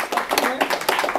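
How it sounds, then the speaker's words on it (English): A short burst of clapping from a few people at a Lions Club induction, with uneven claps close by. "Let's have a big round of applause for our new members."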